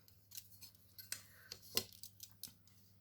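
Crisp, scratchy strokes from a craft knife cutting paper on a cutting board, in about a dozen short, uneven slices close to the mic over a quiet background.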